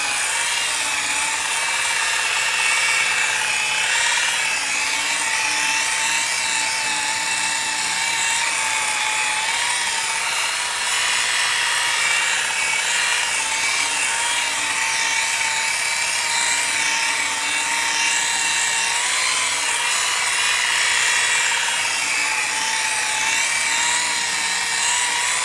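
A machine polisher with a cutting pad works Meguiar's plastic compound into a car headlight, giving a loud, continuous high-pitched whir that stays steady throughout with no talking.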